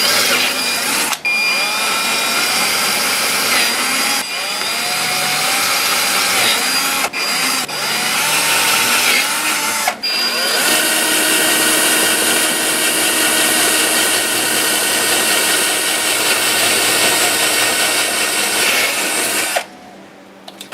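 Power drill boring mounting holes for number 4 screws, a loud continuous whine running for about twenty seconds with a few brief pauses and restarts, then stopping.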